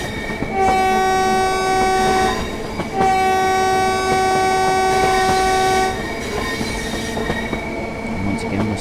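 A train horn in Train Sim World 5 sounds at a whistle board as two long, loud, steady blasts, with wheel and rail rumble continuing underneath and after.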